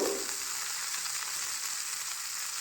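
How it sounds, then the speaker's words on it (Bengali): Vegetables for shukto sizzle in a frying pan while being stirred with salt, a steady bright crackle that stays even throughout, close and fairly loud, with no voices. "লবণ দেওয়ার পরে আমি সবজিগুলোকে আবারও ভালো মতো লবণের সঙ্গে মিশিয়ে নেব"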